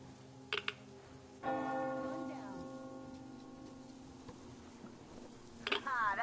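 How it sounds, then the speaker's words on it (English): A bell rings once with a clear ringing tone that slowly fades over several seconds, with brief knocks and a short squeal around it and no clear speech. "You hear that bell?"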